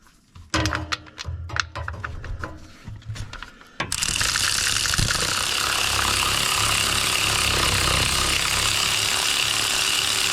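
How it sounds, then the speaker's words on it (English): A ratchet works the nuts off a Chevy S10 clutch slave cylinder, giving quick bursts of close clicking for a few seconds. A steady, loud broadband noise then takes over and masks the rest. "So now I need to get these nuts out and pull that slave cylinder out."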